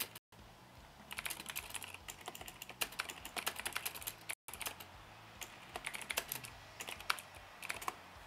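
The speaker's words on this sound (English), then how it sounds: "I know my typing will be kind of loud because I have a loud keyboard" Rapid clacking keystrokes from a loud computer keyboard, close and fairly quiet, come in uneven bursts with short pauses and no talk.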